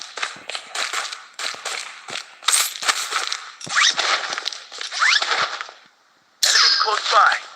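A gun reloading in a battle-royale video game, heard as a quick series of sharp mechanical clicks and ratcheting clacks, loud and close, broken by a brief silence before a final metallic rattle.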